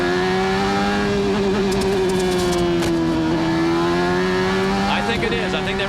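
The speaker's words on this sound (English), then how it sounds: "I think they run that car so low to the ground, the rubbing blocks." Nigel Mansell's low-riding CART race car at Laguna Seca in 1993 passes with a loud, sustained engine drone that shifts slightly in pitch, with a few brief scraping clicks from rubbing blocks touching the ground and commentators talking over it.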